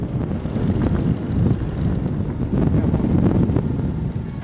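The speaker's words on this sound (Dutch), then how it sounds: "de wind gaat straks zo hard waaien" Strong, gusty wind roars and buffets the microphone continuously at the Oosterschelde storm surge barrier in Zeeland, with heavy low rumbling surges rising and falling.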